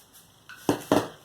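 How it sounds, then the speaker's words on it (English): Flour with cinnamon and baking soda mixed in a bowl, heard as two quick, sharp utensil clinks against the bowl after a soft scrape, close and alone. "Just going to mix this gently and set it aside."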